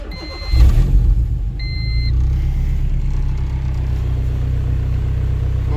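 A car with a wideband gauge, checked for a fast idle thermo valve fault, chimes twice, then its engine cranks and catches with a loud burst and settles into a steady, close idle.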